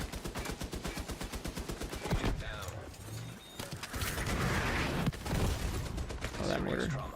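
Combat in The Division 2: a rapid burst of automatic gunfire with evenly spaced shots, followed by heavier mortar impacts and scattered shots, with a voice talking over parts of it.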